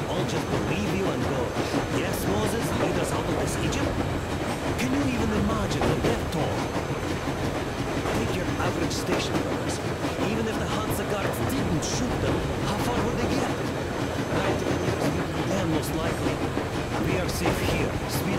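A steady rumble and rhythmic clatter of a train speeding along rails in the Metro Exodus video game continues throughout, with someone talking over it.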